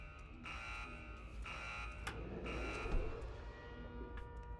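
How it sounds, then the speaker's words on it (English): An alarm tripped in a spooky video game sounds as a quiet, repeating electronic buzzer tone in rhythmic pulses with short gaps, holding on throughout with no talk over it. "pretend we did not trip that alarm"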